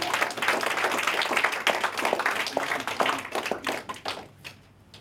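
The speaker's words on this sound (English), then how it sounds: "Let's give yourself a big round of applause." A seminar audience gives a round of applause, with loud, busy clapping that grows uneven and then dies away into scattered claps and silence.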